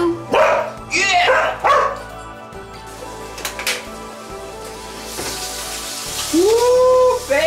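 Several dogs barking in short, loud yips and woofs close by, interleaved with a person talking affectionately to them and some whining.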